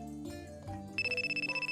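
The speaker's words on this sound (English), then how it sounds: "Ah, phone call." A telephone ringtone starts midway and pulses in quick, even bursts at close range, after a short stretch of quiet indoor background.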